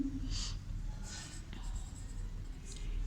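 A teacher writes a page number on a classroom board during a Hindi grammar lesson, making a few brief, faint scratching strokes separated by pauses over a low background hum.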